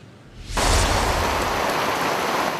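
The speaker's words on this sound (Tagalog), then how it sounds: "ramdam na rin yung malalakas na hampas ng hangin na sinasabayan pa rin ng mga pag-ulan" Heavy rain driven by strong wind gusts in Mamburao, Occidental Mindoro, a quiet start that suddenly swells into a loud, steady roar of downpour.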